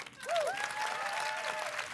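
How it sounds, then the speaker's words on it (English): A crowd at a fireside chat claps for volunteers in a steady, even wash of applause with no break. A whistle-like tone sweeps through near the start. "you can give them an applaud for that"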